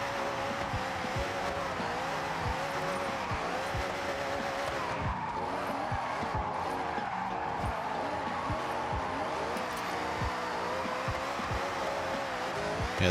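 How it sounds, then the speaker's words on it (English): A 1500-horsepower Dodge car in the racing game Forza Horizon, its engine droning loud and steady throughout with repeated revving pulses and tire noise, close and continuous without talk. "Yeah, this thing has got the 1500 horsepower engine."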